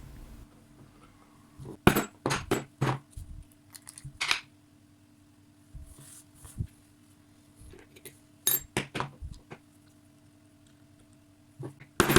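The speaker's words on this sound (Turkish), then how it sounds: "Kovanın içindeki alev kanalına oturtup çekişle vuruyoruz." Light hammer taps on a thin nail driving primers out of spent cartridge cases, heard as scattered sharp metallic clicks and clinks, some in quick pairs, close by with quiet gaps between.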